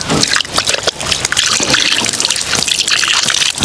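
Water gushes and splashes as hands are washed under a running stream, a loud, close, uneven spatter with choppy bursts throughout.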